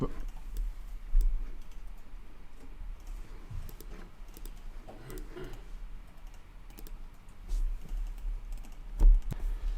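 Keys pressed on a Mac keyboard during Photoshop work, a series of close, crisp clicks and taps at an uneven pace, with a few louder presses standing out.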